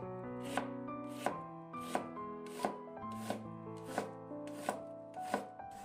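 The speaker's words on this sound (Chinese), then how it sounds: "准备半块洋葱，给它切成丝。" Half an onion sliced into strips with a knife: a steady run of about nine crisp, evenly spaced cuts, with background music playing throughout.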